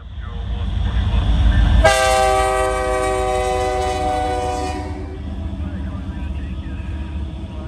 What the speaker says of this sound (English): CPKC Track Its Rights Autorack train came in, with a CP Candy Apple Red SD70 ACU leading